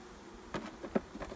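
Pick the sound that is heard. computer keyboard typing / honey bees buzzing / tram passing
honey bees buzzing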